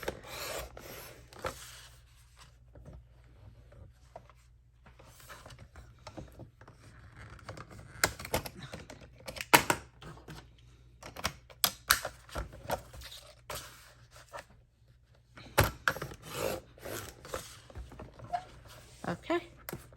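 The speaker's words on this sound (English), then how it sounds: "for my Creative Memories cutter, I have a blade that will cut interesting shapes" A Creative Memories paper cutter fitted with a decorative wavy blade slicing through paper, giving intermittent rasping scrapes in short bursts between quiet stretches, with someone talking over parts of it.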